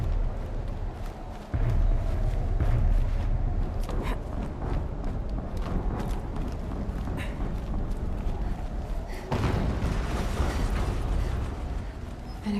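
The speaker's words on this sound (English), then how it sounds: "An explosion." A dense, roaring blast from the video game Horizon Zero Dawn rumbles through the whole stretch. It swells sharply near the start and again later, with crackling debris and heavy low noise throughout, loud and without speech.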